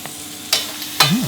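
Onion flowers stir-fried in a hot pan, with two short scraping stirs under a quiet sizzle and a brief tonal clatter at the end.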